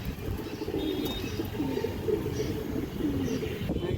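Pigeons coo softly and repeatedly close by over a continuous murmur of background noise, with low throaty calls recurring through the clip.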